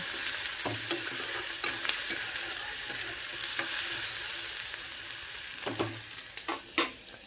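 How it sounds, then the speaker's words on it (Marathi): Onion and tomato fry in a pan for sprouted moth bean usal, with a steady sizzle and occasional scraping stirs that grow more frequent toward the end. "तर टोमॅटो थोडासा होऊ द्यायचा"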